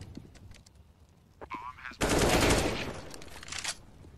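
Rapid burst of close gunfire from a CS:GO match on the Nuke map, a quick succession of shots forming a loud, dense volley after a quieter stretch.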